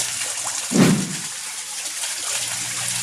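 Koi fish thrash at the surface of a pond, giving one short, close splash that rises over a steady wash of background water noise.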